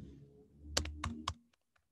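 Three or four crisp keystrokes tap on a computer keyboard, quiet and close, after a soft murmur, then stop.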